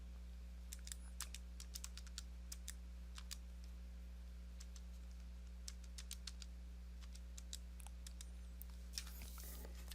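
Quiet, quick clicks of keys tapped on a calculator or keyboard in irregular bursts over a low steady electrical hum, no talking.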